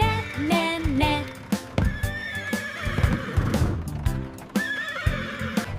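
Horse neighs and whinnies several times over steady clip-clopping hooves, loud and close, set within a children's farm-animal song about a bus.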